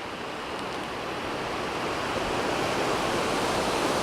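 Ocean waves wash steadily onto a shore on a bright outdoor day, a continuous broad rushing surf with no voices, close and fairly loud throughout.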